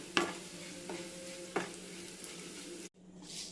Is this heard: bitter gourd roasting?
yes